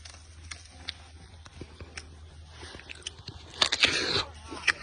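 A crisp Huaniu apple takes a bite near the end, a sharp crunch followed by a moment of chewing, after a quiet stretch with small ticks and faint background noise.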